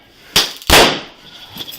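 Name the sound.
taser fired and gunshots in a hospital room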